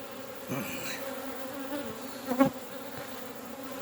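Honeybees hum steadily around an open hive full of brood during a first-year inspection, a soft continuous drone with a brief louder buzz passing close by.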